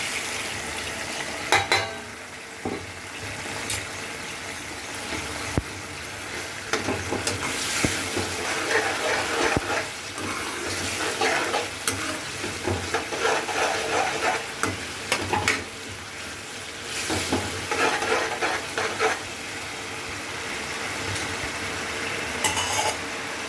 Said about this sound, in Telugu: ఇప్పుడు సేమియా వేసుకుందాం.